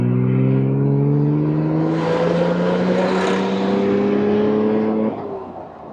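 A manual-transmission Porsche accelerates, its engine note rising steadily in pitch over several seconds, loud and close, before easing off near the end.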